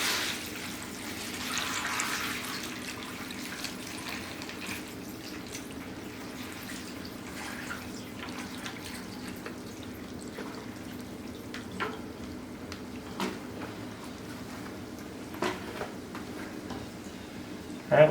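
About two gallons of water is poured into a plastic bag of stall bedding, giving a steady trickling, splashing stream close by for the full stretch, with a few small drips and knocks.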